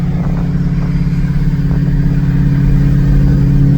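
A Mercury Marauder with an SVT Cobra engine swap and custom exhaust drives along, its loud, deep exhaust drone rumbling steadily up close and building slightly toward the end.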